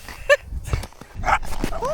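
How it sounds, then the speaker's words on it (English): A wild dog outdoors gives a few short, sharp barks and yips at moderate distance, scattered among other sounds and people talking. "A wild dog appeared."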